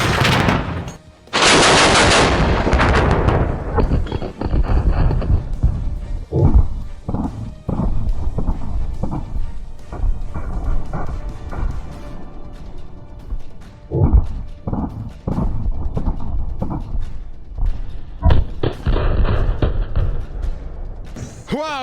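A Soviet ZU-23-2 twin-barreled 23mm anti-aircraft autocannon fires at water barrels in long, loud, very close bursts, followed by scattered shorter bursts with gaps between.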